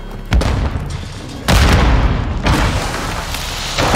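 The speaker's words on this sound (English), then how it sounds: "stun grenade out!" A stun grenade going off in Call of Duty Modern Warfare 2 Team Deathmatch: loud, close, broadband blasts with a hissing ringing tail, several bursts in quick succession and no talking.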